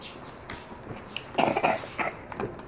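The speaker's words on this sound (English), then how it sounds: "Yeah, she's coughing." Several harsh coughs in a quick cluster, fairly close, with a softer throaty cough before and a couple more trailing after.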